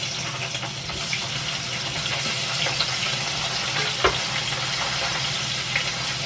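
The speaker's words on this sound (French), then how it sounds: "je vais lancer mes piments verts, mais il faut absolument couvrir" Green chili peppers fry under a lid in a pan, giving a steady, loud sizzle with occasional sharp pops and crackles throughout, no voices.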